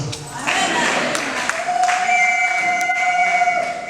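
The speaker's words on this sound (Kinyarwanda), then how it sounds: "amashyi n'impundu" A worship gathering's crowd bursts into applause, with high sustained ululating trills rising over the clapping and cheering, loud and continuous.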